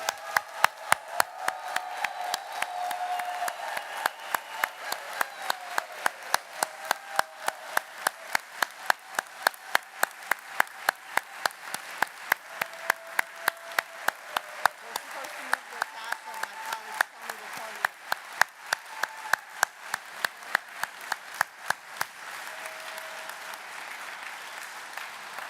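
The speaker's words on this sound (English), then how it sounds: "Let's give a big round of applause to all our graduates." A big round of applause for graduates at a University of Maryland commencement ceremony, with sustained, dense clapping and a few sharper, louder claps standing out, going on steadily for a long stretch with faint voices underneath.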